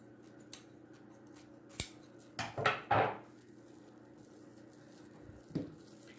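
Scissors snip through Dollar Tree autumn wreath materials in a few crisp, close cuts, a single snip followed by a quick cluster and one last cut, all in a quiet room.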